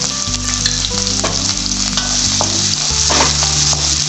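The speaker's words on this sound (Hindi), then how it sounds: "अब इसमें मैं डालूंगी 1 बड़ा प्याज। मैंने इसे बारीक चॉप कर लिया था।" Finely chopped onion fries loudly in a hot pan for gobhi Manchurian, a steady close sizzle running throughout with occasional stirring scrapes.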